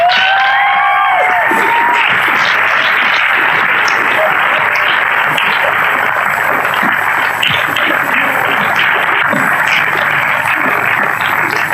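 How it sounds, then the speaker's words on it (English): Graduation crowd in an outdoor Greek theatre applauding Valerie Roy, a dense, steady wash of clapping that fills the whole stretch at even loudness, with brief tonal sounds near the start. "we would like to give a big round of applause to Valerie Roy"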